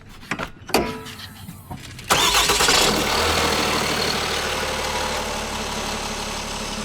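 A 2026 Ram 2500 with the 6.7 diesel is started: a few clicks and thumps, then the engine cranks and catches, settling into a loud, steady diesel idle close by.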